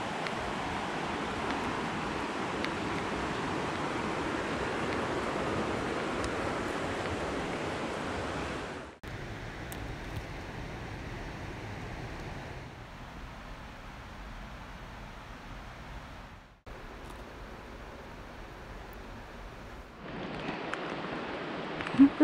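Steady broadband rush of Porters Creek flowing over rocks below a trail in the Great Smoky Mountains, continuous and fairly soft, with brief cuts and level shifts along the way and no talk.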